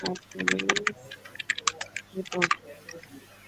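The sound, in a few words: typing on a computer keyboard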